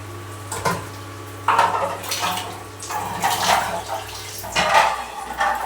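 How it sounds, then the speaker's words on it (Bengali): Rice being washed in a pot of water, with sloshing and swishing in bursts, grains and water stirred by hand, alongside a few light clinks of metal cookware, close and without talk. "তো আমি এখানে চালটাকে ধুয়ে নেব।"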